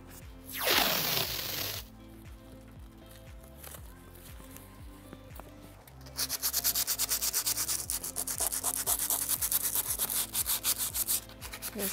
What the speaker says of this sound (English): Just gonna take some sandpaper here.